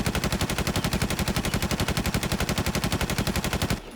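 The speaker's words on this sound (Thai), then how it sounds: "เรามาลองยิงดูนะฮะว่าเสียงเป็นยังไง ยิงครับ" An M14 rifle fires in the Infestation game in a steady, rapid automatic stream of about thirty loud, evenly spaced shots lasting nearly four seconds, then stops abruptly.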